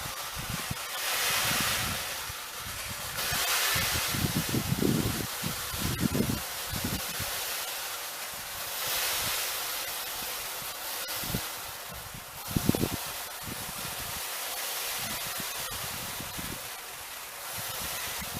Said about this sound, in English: Find which way the wind's blowing.